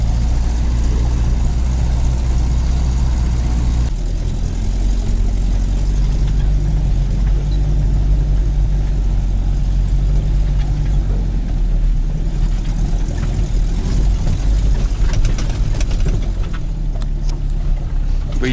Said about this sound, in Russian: Смотри, как буксует. Почему так он едет тяжело?